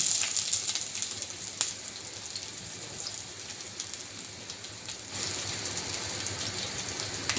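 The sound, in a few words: chopped onion frying in oil with bay leaf and chilli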